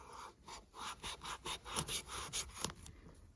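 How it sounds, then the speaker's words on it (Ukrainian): Cimmerian M1 tactical knife saws through a piece of rubber tire tread in a series of rhythmic rasping strokes, close and fairly quiet, with no talking. "Відрізаю шматок протектора."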